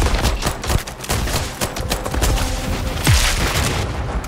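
Grenade explosions and rapid gunfire in the Starfield video game during a Ranger mission firefight, loud and dense with overlapping bursts and booms throughout.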